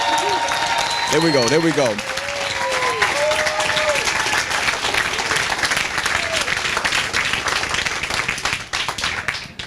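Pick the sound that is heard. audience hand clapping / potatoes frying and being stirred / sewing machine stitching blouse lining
audience hand clapping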